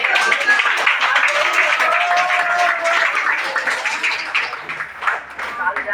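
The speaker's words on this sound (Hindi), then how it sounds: "ताली में कंजूसी थी।" Audience applause at a Ceragem testimonial gathering, a dense, steady wash of clapping that stays loud throughout and thins slightly near the end.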